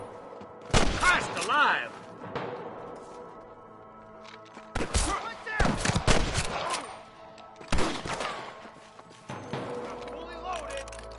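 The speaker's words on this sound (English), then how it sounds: "I can hear more gunshots." Gunfire in the Western video game Red Dead Redemption, loud broadband bursts in several separated clusters, some rapid volleys, with a man's exclamation and game voices between shots.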